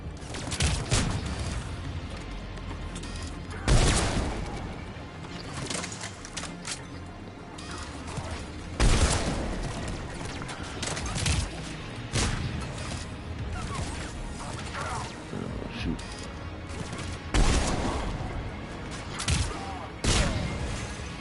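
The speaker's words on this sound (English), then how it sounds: "sounds like a turret" Turret gunfire in the video game Mass Effect Legendary, with bursts of loud sharp shots every few seconds over a steady mechanical game background and faint talk.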